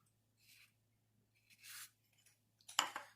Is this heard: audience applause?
no